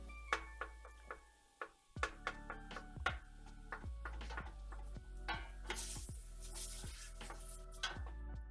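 Ziti ingredients are stirred and broken apart in a pan with a utensil, giving repeated sharp taps and clicks against the pan over a steady low hum, with a soft sizzle-like hiss partway through, close and fairly quiet.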